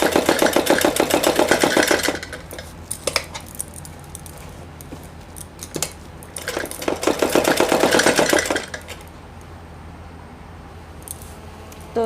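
A sewing machine runs in short bursts while stitching a salwar seam joint, a rapid mechanical whir of a couple of seconds each, with quiet handling noises and pauses between, near and without talk.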